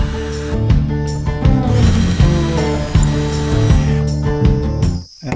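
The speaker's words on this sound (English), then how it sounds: "So I need to drill these out." A power drill bores out rivet holes in a vehicle body during a repair, giving loud, repeated bursts of grinding and whirring that stop and start in an uneven rhythm, close by and with no talk.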